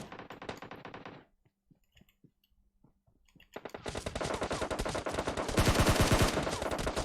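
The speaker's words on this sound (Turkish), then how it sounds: "Adam ta oradan bana sıkıyor ya." Enemy gunfire in a first-person shooter video game: a rapid automatic burst, a near-silent gap with scattered single cracks, then long, loud sustained volleys of machine-gun fire that grow denser toward the end.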